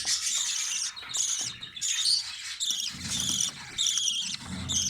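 Budgerigar chicks and parent birds chirp and squeak in a nest box, close and fairly quiet, in short repeated bursts with brief gaps between them.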